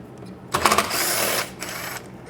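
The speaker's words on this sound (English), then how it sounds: "We come in with our same T30 we used earlier on the bumper, and we zap out both of these screws here." A power driver fitted with a T30 bit backs out screws from a car bumper during a headlight halo upgrade, a loud whirring burst of about a second followed by a shorter spin, with no talking.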